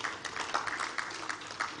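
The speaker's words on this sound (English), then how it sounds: "I think he deserves another round of applause" Audience applause rises at an international housing show conference, a brief burst of many hands clapping at moderate level with a fairly even texture.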